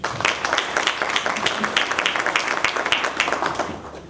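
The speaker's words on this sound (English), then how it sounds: "Give her a round of applause" Lively applause rings out for a mother at a university inaugural lecture, with distinct individual claps in quick succession, fairly close and sustained for several seconds.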